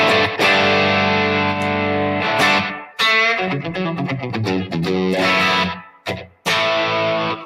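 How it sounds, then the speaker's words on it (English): Distorted electric guitar plays loud chords and short note runs, drenched in a splashy spring reverb that rings out between phrases. "I've got obviously a bunch of spring reverb going too"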